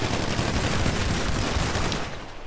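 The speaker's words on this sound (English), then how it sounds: "Fuck these shotguns." Shotguns fire in a video game as a dense, rapid burst of gunfire, loud and close, running continuously before tapering off at the end, with no voices.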